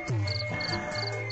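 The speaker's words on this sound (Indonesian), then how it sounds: "sambil dengerin suara jangkrik" Crickets chirp in quick, pulsing bursts at a steady rhythm, with a low droning hum running underneath.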